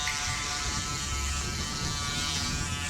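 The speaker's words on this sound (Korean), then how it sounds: "기본 이렇게라도 면도하고 다녀야지" An electric shaver buzzes steadily and close up while shaving, a continuous dense whir with no pauses or talk, recorded during a summer motorcycle trip in Gangwon Province.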